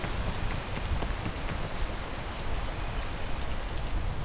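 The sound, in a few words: rain in the video game PEAK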